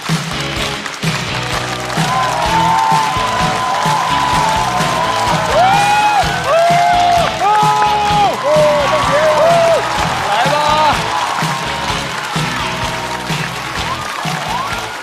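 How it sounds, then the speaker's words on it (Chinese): Loud audience applause with cheers and whoops greets comedian Li Mengjie at a stand-up comedy show, a full steady roar of clapping with shouts and music-like tones running throughout. "掌声有请李梦洁"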